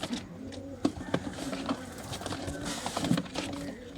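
A Rampuri pigeon pair coos softly in low repeated throaty calls, close and intermittent, amid light background rustling and faint voices.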